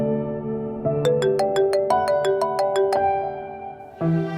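A phone ringtone plays a bright, rapid electronic melody of repeated beeping notes, close and clear, ending abruptly before another tone starts.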